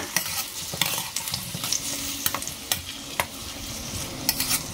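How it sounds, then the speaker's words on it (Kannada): Mango tokku mixture with green chillies sautéed in a pan over medium flame, a soft steady sizzle broken by repeated sharp scrapes and clacks of stirring. "ಇದನ್ನ ಒಂಚೂರು ಬಾಡಿಸ್ಕೊಳ್ಳೋಣ."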